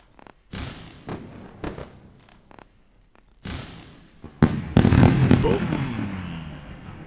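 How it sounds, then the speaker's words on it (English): Fireworks sound effect on a live trading stream: scattered sharp pops and cracks building to a dense, loud volley of bursts and crackle that fades out slowly. "You deserve that special round of fireworks."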